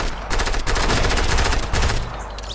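Rapid bursts of automatic gunfire from a Fortnite match, loud and close, with dense repeated shots running for about two seconds before easing off.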